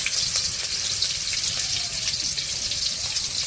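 Panch phoron spices and crushed garlic frying in hot oil in a village kitchen, a steady close sizzle and crackle with a faint watery hiss throughout, no talk.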